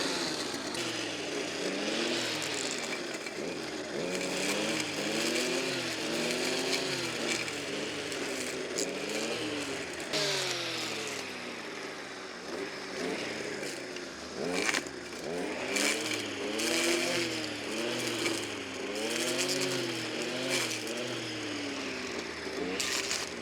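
A small garden machine engine with a spinning steel blade runs steadily, its pitch rising and falling repeatedly as it revs and labours, close and loud throughout.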